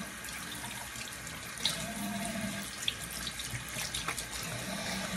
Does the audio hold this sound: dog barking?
no